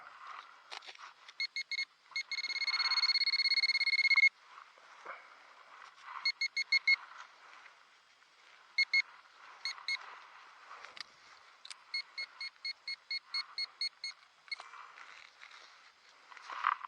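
Electronic beeping from a Garrett ACE 250 metal detector, a long steady tone followed by bursts of quick repeated bleeps, fairly close and clear.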